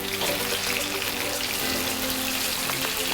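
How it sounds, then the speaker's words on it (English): Pasta is dropped into a pot of boiling water, a close, continuous bubbling rush with splashy turbulence that stays loud and even throughout. "And then now we add our pasta."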